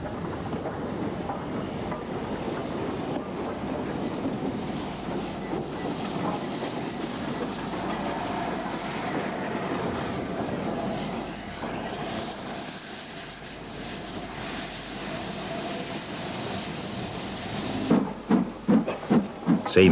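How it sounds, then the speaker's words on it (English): A B16 steam locomotive running light engine passes through a station area, a steady rolling rumble with clanking and hiss, growing into sharp rhythmic wheel beats near the end. "61454 is moving light engine through Clegg Hall after being replaced in the station."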